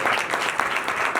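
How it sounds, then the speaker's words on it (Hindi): A congregation at a church sermon bursts into steady, dense clapping, a short round of applause with no talking over it. "जोरदार तालियां जाएगा।"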